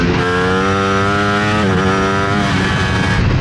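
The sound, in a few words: sport motorcycle accelerating at full throttle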